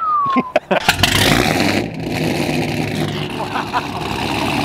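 Supercar engine cranking and firing up, a few sharp close bursts settling into a loud rumbling idle, with people talking excitedly over it.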